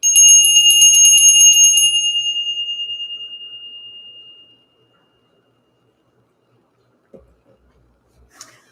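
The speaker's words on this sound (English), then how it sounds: "Spirit said to ring the bell." A single bell is struck once and rings out loud and clear, its bright tone fading slowly over several seconds into near silence, followed by a couple of faint soft knocks.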